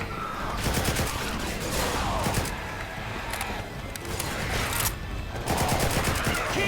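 Rapid bursts of automatic gunfire from the video game Left 4 Dead 2, loud and nearly continuous, with overlapping shots and brief lulls throughout.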